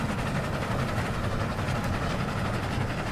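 A moving train in the video game Dead Rails gives a steady, dense rumble of wheels and engine noise that holds constant throughout, with no voices.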